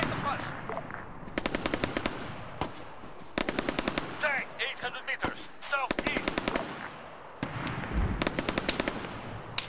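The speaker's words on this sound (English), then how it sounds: "I think that's a Lynx. I think that's a big 50 cal or something." .50 cal machine gun fire in the military game ArmA 3 rattles in long rapid bursts with short pauses between, loud and close, with some faint talk underneath.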